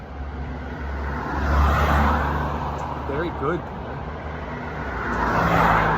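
A car approaches and passes along a road in a backyard setting, a steady broad engine and tire rumble that swells and fades, with a voice speaking over it and a dog nearby.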